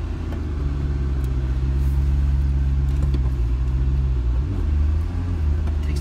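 A McLaren MP4-12C sports car drives with a continuous deep engine rumble heard from inside, the tone holding steady and then shifting slightly as it accelerates, loud and close throughout.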